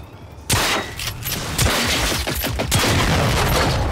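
Shotgun blasts in the video game Generation Zero ring out in a sharp, loud volley of several close shots over a constant rumbling game background.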